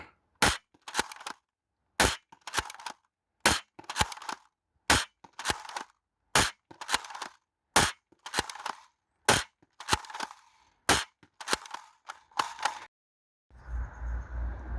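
A CEDA S foam dart blaster, stock and relubricated, fires about fifteen sharp, loud snapping shots at a steady pace, each followed by a brief clatter, before a low rumbling handling noise at the end.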